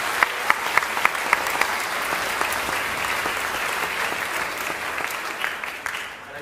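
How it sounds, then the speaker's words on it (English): Steady applause fills a school band concert hall, a few sharp individual claps standing out at the start above a dense, even wash of clapping from the audience that carries through to the end. "so a round of applause."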